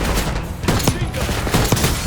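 Automatic machine gun fire from a gunner in the Call of Duty Black Ops 6 video game, sustained loud rattling bursts with sharp shots standing out through a dense battle din.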